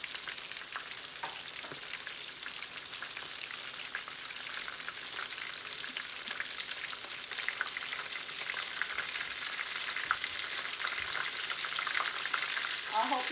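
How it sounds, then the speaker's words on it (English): Halved king crab and lobster fry in hot oil until golden brown, a continuous close sizzle with fine crackling and pops, like light rain on a surface, steady from start to finish with no voices. "just cook these until they're nice and golden brown on both sides"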